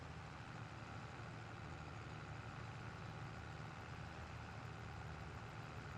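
A farm tractor engine idles in Farming Simulator 22, a steady, even low rumble that stays constant throughout with no voices.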